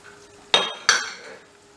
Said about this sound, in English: we're going to stir through some mango chutney